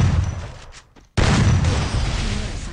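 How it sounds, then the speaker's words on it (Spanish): Desert Eagle pistol shots ring out in an online video game, dense loud blasts that cut out briefly to near silence and then resume in a heavy burst. "Me pegó 5 tiros con la Desert"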